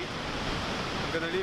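Steady roaring rush of a waterfall in Iceland, a broad continuous wash of falling water that stays even throughout with no breaks.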